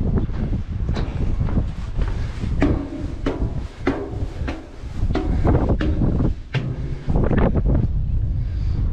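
Strong wind buffets a microphone outdoors on a Portuguese pilgrimage trail near Fundão, a loud, gusty roar with repeated thumping blasts throughout, swelling and easing without pause.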